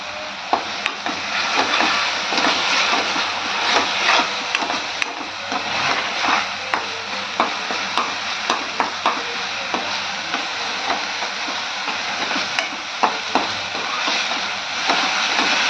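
Raw onion, garlic, ginger, chili and cumin fry in a pan with a steady, close sizzle. Frequent light clicks and scrapes of stirring run through it, with no talking.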